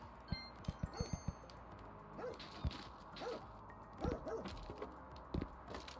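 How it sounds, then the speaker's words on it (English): A dog in the video game House Builder barks in a quick series of sharp yips, then several more spaced, moderately distant barks over a low ambient background. "See the dog barking now?"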